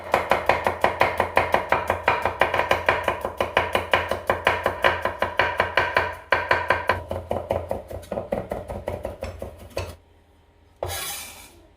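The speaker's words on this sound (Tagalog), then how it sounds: "Pitpitin lang natin, balatan, at saka natin i-slice into pieces." A knife slices peeled garlic cloves on a cutting board for Thai fried rice with pork, a fast, steady run of crisp close chops that slows near the end, then stops, followed by a short scraping sweep.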